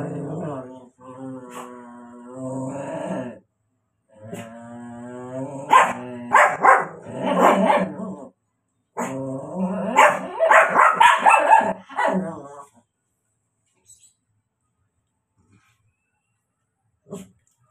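Dogs bark in loud, rapid bursts with yips and growls, then the barking stops and it falls almost silent.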